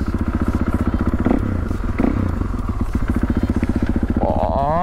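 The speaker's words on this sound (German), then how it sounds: "Boah, das hört sich schon im Stand so geil an." KTM EXC 450 dirt bike with an Akrapovič exhaust and the dB killer removed, revving loudly at a standstill with a rapid, throbbing, crackling engine pulse close by.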